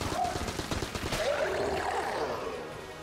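Rapid volleys of cannon fire from the roguelike shooter game Enter the Gungeon, dense overlapping blasts and gunfire in a continuous burst that fades slightly toward the end.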